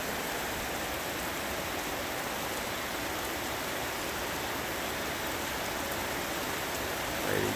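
Steady rain pours down around a tiger enclosure's pool, a dense, even hiss of drops on water and ground that continues unbroken and close, with no voices.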